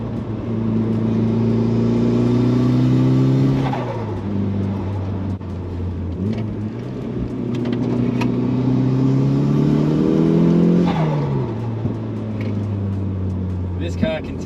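A Mitsubishi RVR minivan fitted with an Evo 3 drivetrain accelerates hard, its engine note climbing loudly up close through two rising pulls, each broken by a gear change before the revs build again.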